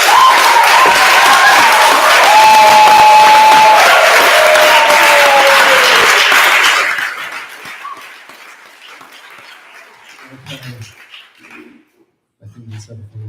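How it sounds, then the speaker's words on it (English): Loud audience applause fills the room at a live talk at MIC for about seven seconds, then drops away quickly, leaving a quiet room with a few faint sounds. "So please, just one more round of applause."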